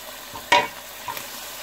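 Shrimp dropped into hot oil with browned onions in a pan give a sudden sharp sizzle that quickly settles into a quieter, steady crackle, with no talking.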